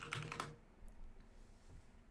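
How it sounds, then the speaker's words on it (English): Quick burst of typing on a computer keyboard, a handful of close clicks in the first half-second, then only faint room tone. "Typing."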